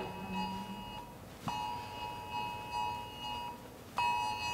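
A phone's emergency alert alarm sounds as a series of piercing, sustained electronic beep tones, each lasting about a second with short gaps between them, fairly quiet and heard on its own.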